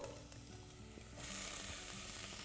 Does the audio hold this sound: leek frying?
yes